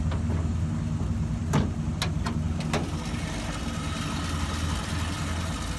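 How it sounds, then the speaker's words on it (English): A 1948 Plymouth Special Deluxe with new spark plugs and a rebuilt Carter carburetor idles steadily, a low even engine rumble broken by a few sharp clicks or taps in the middle. "Usually idles right along."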